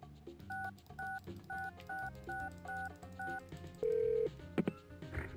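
Touch-tone phone dialing beeps in the Spy Fox game, a quick run of paired tones followed by a long steady answering machine beep and a few short clicks, clear and alone with no talking.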